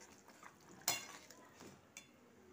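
A spoon stirring rui fish curry with lemon and mixed pickle in a pot of boiling water, giving a few soft scraping clinks, one louder knock near the middle and another toward the end, with a faint bubbling beneath.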